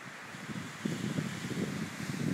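Steady blizzard wind roars continuously across an open snowy landscape, a dense rushing noise with gusty swells and no voices.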